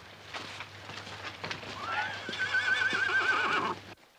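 Horses whinny in a stable, one clear neigh rising and wavering for about two seconds over a steady low hum and faint stable rustle, close and fairly loud before cutting off.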